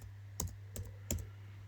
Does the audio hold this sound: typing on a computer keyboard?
yes